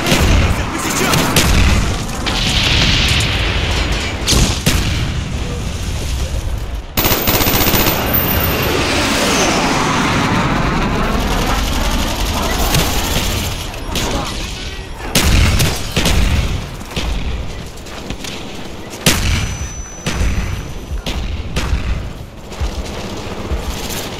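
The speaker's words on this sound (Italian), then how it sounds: "Bombardamento napalm nemico in arrivo" Enemy napalm strike in Call of Duty: Black Ops multiplayer on the Summit map: loud, continuous explosions and gunfire-like bursts rumble throughout, with repeated heavy booms under dense game noise.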